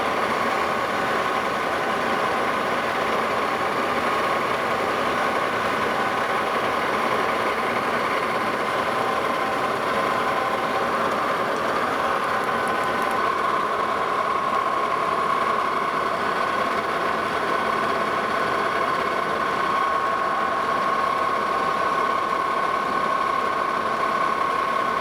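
A metal lathe faces off a piece of 1-inch diameter stock, a steady, continuous machine drone holding evenly for the whole stretch with no one talking.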